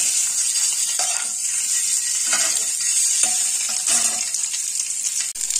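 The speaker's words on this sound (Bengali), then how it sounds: "আর ডিম দুটো ভেজে নেব।" Two boiled eggs, scored with a knife, fry in oil in a pan with a little turmeric, giving a steady close sizzle and crackle with a few soft clinks of utensils throughout.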